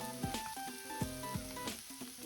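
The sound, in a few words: stir-frying mountain udo with cooking sake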